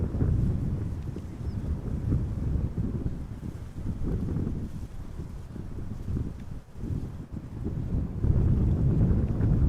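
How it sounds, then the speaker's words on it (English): Steady wind buffeting a microphone outdoors at Amsterdam Schiphol Airport during crosswind arrivals, a continuous low rumble that surges and dips slightly, heard alone without talk. "we do have a little bit of wind"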